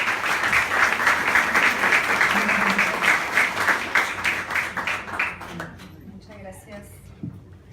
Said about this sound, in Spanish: Aplausos para ella, por favor.